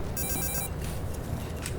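A telephone rings with a bright electronic trill over a loud, busy background, then the ringing breaks off partway through.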